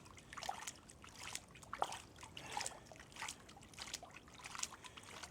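Water trickling into a bottle being filled on the Hayduke Trail near Moab, Utah: faint, close, irregular splashy dribbles and gurgles with no voices.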